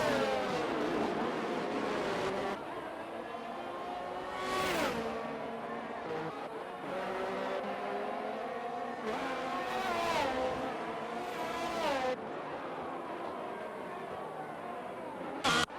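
Race cars competing at Bahrain in a racing video game, with loud engines revving and shifting through gears, rising and falling whines and several sharp upshifts, continuous and close throughout.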